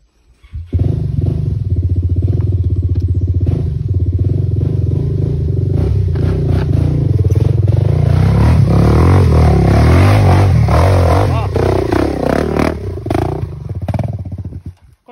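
An enduro motorcycle engine running loud and close, a steady rumbling drone that swells as it revs, then cuts off.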